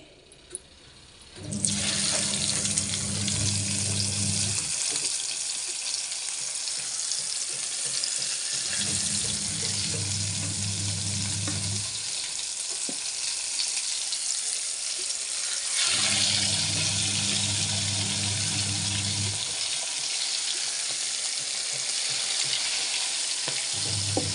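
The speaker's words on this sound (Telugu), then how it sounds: "ఇక్కడ ఈ ఫ్రై అవుతున్నాయి" Chicken pieces fry in hot oil with a loud, steady sizzle close by, joined by repeated low rumbling bursts of handling in a regular on-and-off pattern.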